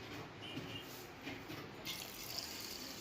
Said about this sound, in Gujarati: એક પાણીએ ધોઈ નાખીએ છીએ